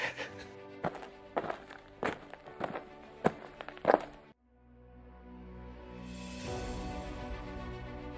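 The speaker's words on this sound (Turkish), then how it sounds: "Yağmurda yürüyoruz." Footsteps crunch along a trail in the rain on a winter trek to Everest Base Camp in Nepal, about six distinct steps close to the microphone, followed by a sustained rising rush of noise.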